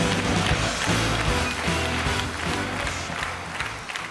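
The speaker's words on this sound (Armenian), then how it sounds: "ծափարում ենք Դալիթային" Studio audience on the Armenian children's TV show Vitamin Club applauds guest Dalita, the featured young Junior Eurovision heroine. Dense, steady clapping fills the room throughout with a lively crowd texture and no speech over it.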